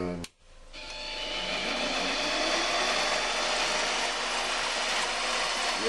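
Metal being turned on a lathe to make a generator head adapter for a Mecc Alte symmetric generator, a steady, loud grinding whir with a brief click at the start, then continuous machining noise throughout.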